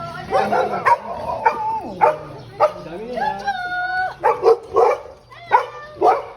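A dog barks and whimpers nearby in short yips while people talk over it.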